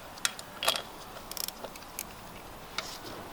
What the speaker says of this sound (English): So I'm gonna go ahead and loosen these three, this nut and these two bolts.